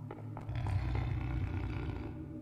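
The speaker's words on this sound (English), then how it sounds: "This is the sound of a rumbler." A rumbler monster in the video game System Shock 2 lets out a low, growling roar that rumbles steadily for a couple of seconds, fairly faint beneath game ambience with no talking.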